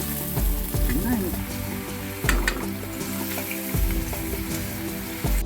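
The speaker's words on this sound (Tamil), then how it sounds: "சுத்தமான நல்லெண்ணெயில் இந்த நண்டை பார்த்தீங்கன்னா நல்லா வதக்கி எடுத்துக்கணும்" Crab frying in sesame oil: a steady, close crackling sizzle with occasional clatter from stirring.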